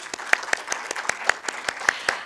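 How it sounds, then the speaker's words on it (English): Clapping for panelists at a panel discussion, individual claps ringing out distinctly in a loose, uneven rhythm from a small audience, moderately close. "They deserve a big clap because they kept the time."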